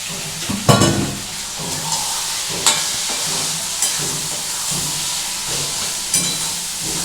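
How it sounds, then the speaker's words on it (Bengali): Prawns are tossed into a sizzling pan for a ridge gourd and prawn curry, giving a steady loud frying hiss with a few sharp clatters of stirring, and no talking. "এবার দেখো যেটা করবো, আমি এই চিংড়ি মাছগুলো সব আমি মিশিয়ে দেবো"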